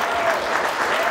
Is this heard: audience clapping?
yes